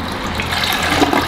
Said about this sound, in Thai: มาทดสอบชักโครกกันเลยนะครับกดหนักเลยฮะ